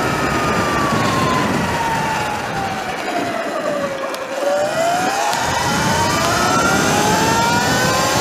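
A Sur Ron electric motorcycle with a 72V 51Ah battery accelerates hard, and its motor whine sweeps down and then climbs again over loud, steady wind rush close to the rider.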